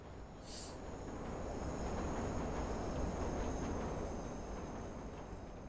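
In Watch Dogs, a train passes as a broad rumbling roar that swells, holds and eases off slightly, with a brief high hiss near the start and no talking.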